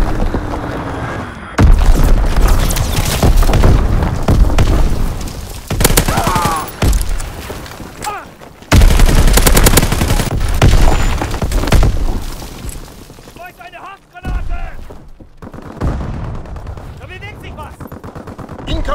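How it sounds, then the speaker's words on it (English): An enemy artillery strike in Call of Duty WWII on the Shipment 1944 map: heavy booming impacts and dense bursts of gunfire crash in loud waves, easing between salvos and then returning. "Incoming enemy artillery."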